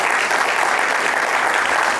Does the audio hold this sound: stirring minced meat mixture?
no